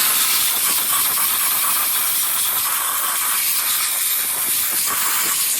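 Compressed air blasts through the EGR cooler of a 5th-gen Ram 2500 diesel, a loud, close, steady hissing rush that holds unbroken throughout with no talking.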